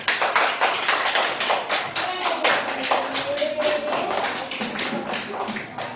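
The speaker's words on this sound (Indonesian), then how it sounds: "Kasih tepuk tangan." Classroom audience applauding a student group after a presentation, dense steady clapping from many hands that fills the whole stretch at close range, with a faint voice underneath.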